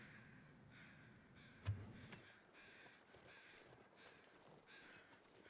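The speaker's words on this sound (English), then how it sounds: "Where are those birds squawking at?" Crows squawk in the cold wilderness of The Long Dark, a handful of faint, scattered caws drifting in from a distance over a low wind-like hiss, with one brief thump partway through.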